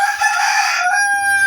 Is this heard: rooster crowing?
yes